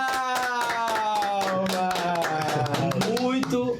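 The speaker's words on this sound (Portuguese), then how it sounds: "salva de palmas" An audience claps in steady rhythm to welcome a guest at a Catholic gathering, the evenly spaced, close claps sounding over sustained music or singing throughout.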